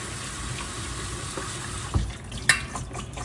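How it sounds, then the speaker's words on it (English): Broccoli is rinsed under a running kitchen tap, a steady close hiss of flowing water with a couple of brief splashes and knocks. "I'll show you how I'm doing it to the broccoli. So, well, I'm just gonna rinse it real quick."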